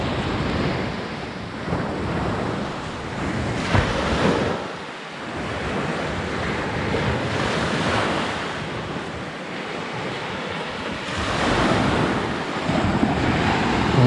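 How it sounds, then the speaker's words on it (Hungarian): Sea waves roll in and break on a sandy Greek beach, Ammos Beach near Stavros, with frothy surf. The roar is loud and steady, rising and falling in long surges, with wind noise buffeting the microphone. No one speaks. "Ez érdekes, hogy elállt a szél, és mégis így mennek a hullámok."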